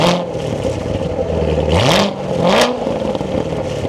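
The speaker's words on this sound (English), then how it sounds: "But let's start this back up and take a listen to how this sounds." A Chevrolet Corvette C7 Z06 engine idles loudly and close, then climbs through two quick rising revs before settling back to a steady rumble, with no voices.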